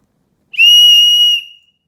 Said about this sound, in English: Extremely loud whistle.